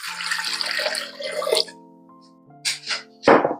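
Warm water poured into a stand mixer bowl for breadstick dough splashes in short bursts, a longer pour followed by a few brief splashes close by, with a faint tonal hum underneath.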